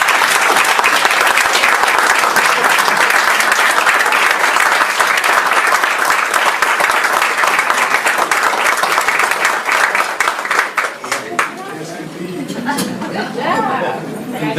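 A school board meeting audience gives a warm round of applause for a teacher, a loud, sustained roar of many clapping hands with chatter underneath that thins out toward the end.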